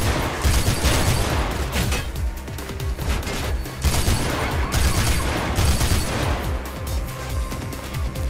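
Machine gun fire from the Mirror's Edge video game, dense rapid bursts of shots with crashes and booms filling the whole stretch, loud and close.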